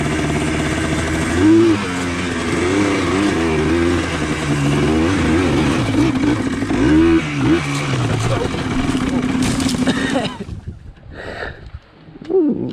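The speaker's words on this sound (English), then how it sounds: "That's what two-strokes do when they run out of fuel there, guys. A little idle out of control." A Yamaha Blaster two-stroke engine runs rough and uneven close by, its idle surging and sputtering as it runs out of fuel, then cutting out to near silence with faint handling noises.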